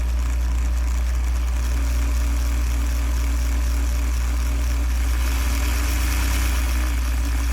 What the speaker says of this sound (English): There's just quite a bit of gear noise at the low speeds.